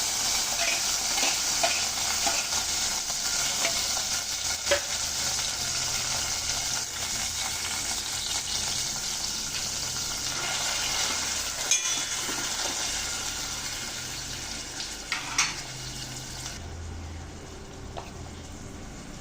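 Garlic, tomato and curry leaves sizzle in a hot pan for pepper rasam. A continuous loud hiss runs under intermittent stirring scrapes and a few clinks, close by and with no speech.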